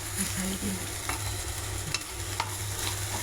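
Prawns frying in a pan, a steady close hiss and sizzle of hot oil running throughout, with a few scraping stirs breaking through.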